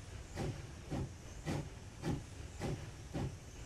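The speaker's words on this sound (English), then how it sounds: "That has got a beautiful chuffing sound." Steam locomotive in the Railroads Online video game, hauling a snowplow tender and chuffing in a steady, evenly spaced rhythm of about six hissing exhaust beats, moderately close with no talk.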